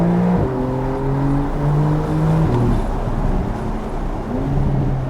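A base Porsche 992 Carrera engine revs with the windows down, its loud, steady tone rising and shifting in pitch through gear changes, heard up close from inside the car with no talking.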